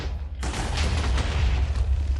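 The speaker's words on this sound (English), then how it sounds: "There was a huge explosion." A deep, sudden boom of an explosion in the Minecraft modpack Enigmatica 6 bursts in after a short quiet moment, then a broad rumbling roar rolls on for about two seconds.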